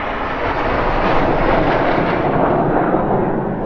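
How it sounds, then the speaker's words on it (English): A military jet roars overhead on its approach into Leeming, a loud, steady broadband rumble that fills the whole stretch without a break. "That was a jet going into Leeming."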